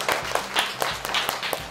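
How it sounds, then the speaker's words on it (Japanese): Schoolchildren at Omonawa elementary school clap in a brief burst, a handful of sharp, evenly spaced claps close by, with no speech. "拍手。"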